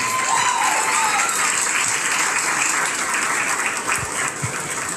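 An audience at a livestock show for commercial goats applauds in a steady, dense wash of clapping that holds loud for several seconds before easing slightly.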